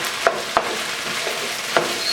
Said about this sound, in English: Let's go ahead and throw our peppers and onions in.